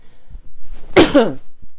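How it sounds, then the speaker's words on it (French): A single sharp, forceful cough burst up close, preceded by a short breath and followed by quiet. "je vais encore tousser"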